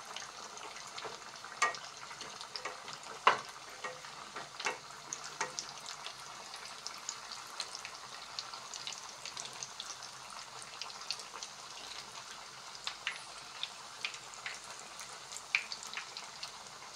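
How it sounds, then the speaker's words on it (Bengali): Pointed gourds stuffed with katla fish fry in a pan as they are turned. The sizzle is soft and continuous, with scattered light clicks and scrapes throughout. "পুরগুলো এখন রান্না হচ্ছে, এগুলোকে একটু উল্টিয়ে পাল্টিয়ে দিচ্ছি।"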